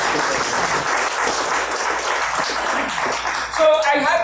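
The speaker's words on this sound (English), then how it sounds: "Could you give her at this stage a round of applause for this majestic work?" An audience at a book launch event applauds, dense continuous clapping from a full room, loud and sustained, with a brief voice emerging near the end.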